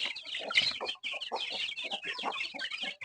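Free-range village chickens clucking at feeding time, a busy flock of overlapping clucks and cackles at close range, steady throughout with no talking.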